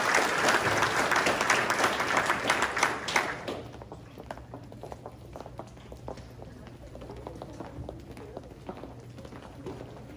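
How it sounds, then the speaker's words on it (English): A church congregation at a Sunday morning worship service claps in a full round of applause that peaks early and then thins into scattered claps and murmuring. "Let's give them one more round of applause."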